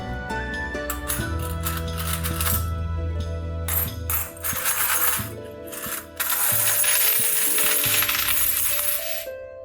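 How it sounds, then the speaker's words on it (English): Metal coins from the Euthia board game clink and jingle close by as they tumble and rattle together in a bag or pile, in long bright jangling bursts with brief pauses. "A bag and coins. Listen, they sound like really silver and gold coins,"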